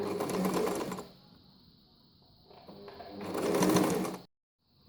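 An Empisal sewing machine running a straight stitch with a twin needle: close, steady mechanical whirring in two runs, easing off in the middle and stopping abruptly near the end, with a constant high whine underneath.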